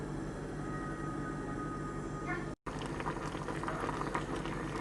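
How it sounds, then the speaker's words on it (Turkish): Fruit boils in a pot of water for baby puree, giving a steady, close bubbling and simmering that runs unbroken except for one brief dropout midway. "Bir 8 dakika daha kaynattım."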